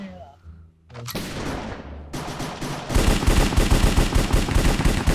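Rapid gunfire in a Minecraft game styled after CS:GO, a few separate shots first, then loud, dense automatic bursts, with a brief voice at the start.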